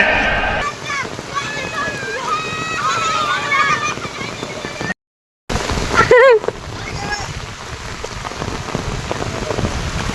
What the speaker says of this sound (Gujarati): પાણીનું ફ્લો તમે જોઈ શકો છો